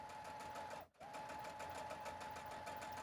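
A sewing machine runs steadily during a craft session, a close, continuous whirring hum with a rapid mechanical rhythm that cuts out for an instant before starting again, with no talk.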